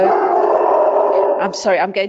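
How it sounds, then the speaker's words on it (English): Dogs howling in a drawn-out, wavering cry followed by a few short yips and barks near the end, fairly close and loud. "mute myself while my dogs make a noise"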